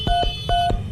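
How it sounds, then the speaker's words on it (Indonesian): A phone keypad dials the emergency number 112, giving four short, loud DTMF tone pairs in quick succession with an electronic hum underneath, no speech. "Tak telepon 112 dhisik."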